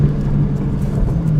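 A 485-horsepower car accelerates hard in regular mode, a loud, steady low engine roar filling the cabin without a break.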